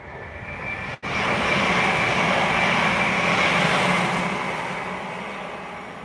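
A TransPennine Express train passing close by, a sustained broad roar with a faint whine that swells after a brief dropout and then slowly fades as it moves away.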